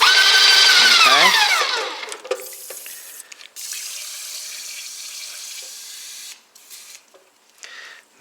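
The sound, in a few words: rinsing airless spray gun tip under water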